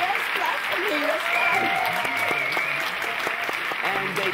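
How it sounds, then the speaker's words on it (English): An audience applauds on a talk show, a continuous wash of clapping mixed with a voice and faint tonal background sounds throughout. "Yes, clap for me."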